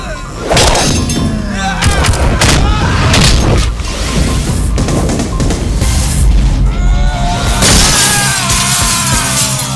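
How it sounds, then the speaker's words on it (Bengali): Firecrackers burst in a comedy film scene, loud repeated booms and sharp cracks piling into a dense, continuous barrage with shattering noise and background voices mixed in. "ওদিকে পটকা ফাটলো"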